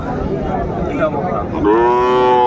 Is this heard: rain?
no